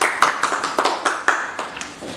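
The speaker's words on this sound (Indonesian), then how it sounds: "Tepuk tangan untuk Fitri." Small classroom audience clapping for a student after a micro-teaching practice lesson, a handful of distinct, close hand claps in a loose irregular rhythm lasting about two seconds.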